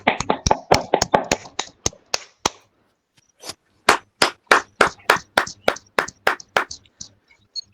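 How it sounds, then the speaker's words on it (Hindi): A small audience claps in two bursts of sharp, distinct handclaps, the first fast and scattered before trailing off, then a brief pause and a second, more rhythmic round of loud, close claps. "इनके लिए जोरदार तालियां हो जाए जरा"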